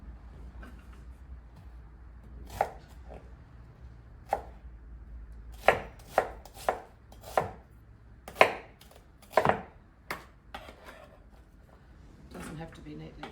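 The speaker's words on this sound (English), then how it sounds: "we're just going to roughly chop our onion here, pop it into the food processor" Onion is chopped by hand on a board in a home kitchen, a scatter of separate sharp knife strikes that cluster in the middle, with faint background hum and no talk.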